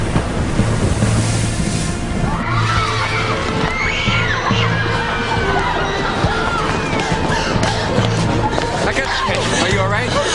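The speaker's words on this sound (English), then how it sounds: "this storm's getting pretty big." Rough sea waves crash and churn amid blustery wind, a loud continuous roar with surging swells and scattered voices over the din.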